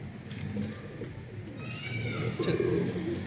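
Two Mardin pigeons coo in soft, low, repeated murmurs close by, with a faint higher bird call overhead and no talking.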